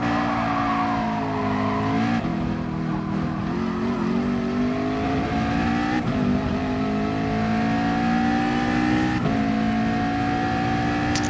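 Race car engine in Gran Turismo 7, a loud continuous high-revving drone with gear shifts and brief tire squeal during a late online race lap, no voices.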